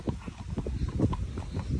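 Horse hooves clip-clop steadily while out hacking, close and fairly loud, with an even walking rhythm and no talk.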